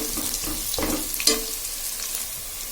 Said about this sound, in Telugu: అల్లం వెల్లుల్లి పేస్ట్, కొద్దిగా కరివేపాకండి, కొద్దిగా వేగనిద్దామండి.